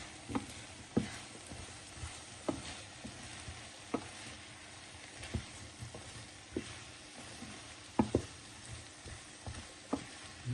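Turmeric, ginger and black pepper frying in a pan under a soft continuous sizzle, with a spoon stirring and tapping at irregular intervals, close and fairly quiet.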